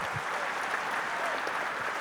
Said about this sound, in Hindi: उनके लिए भी आप जोर से ताली बजाइए